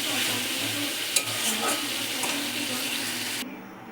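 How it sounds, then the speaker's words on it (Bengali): Water poured into a hot pan of cooking potatoes, a loud hissing sizzle and splashing that continues steadily for a few seconds before cutting off abruptly, with no speech. "অল্প একটুখানি জল দেবো আলুগুলো সিদ্ধ হওয়ার জন্য"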